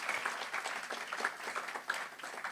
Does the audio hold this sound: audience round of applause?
yes